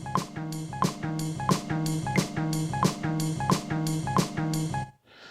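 A boom bap jazz sample loop of repeating chord stabs over a steady beat, the opening notes swelling up from quieter to full level before the loop cuts off near the end.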